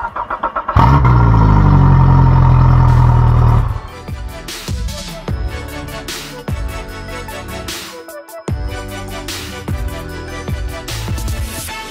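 A white Suzuki DF140A outboard boat engine cranks and catches, roaring loudly up close for a few seconds before settling into a rough, pulsing idle with uneven surges.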